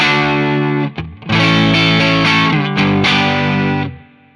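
Loud, sustained electric guitar chords with gritty overdrive from a Mad Professor Royal Blue Overdrive pedal, ringing out with a brief gap before strumming resumes, no voices.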